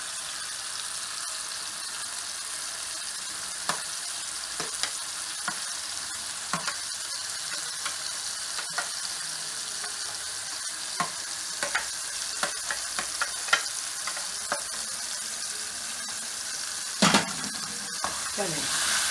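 Onions frying in a pan as a masala base for a bitter gourd (karela) dish, a steady soft sizzle with scattered scraping clicks of stirring and a brief louder clatter near the end; no talking.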